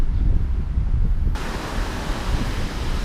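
Steady roaring wash of strong surf at a beach mixed with gusty wind buffeting the microphone, continuous and fairly loud, with no voices.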